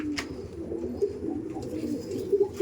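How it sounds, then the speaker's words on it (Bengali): Aggressive Dom pigeons of the Kaldom breed coo in a low, continuous murmur at close range, with a few slightly louder swells near the end and no clear talk. "এই দেখুন সব এত অ্যাগ্রেসিভ পায়রা যে এক পিস করে দেখাতে হচ্ছে"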